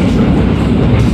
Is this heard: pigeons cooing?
no